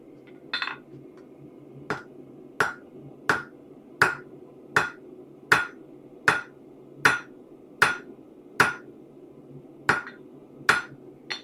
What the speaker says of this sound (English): So we are flattening out the central ridge on this piece of steel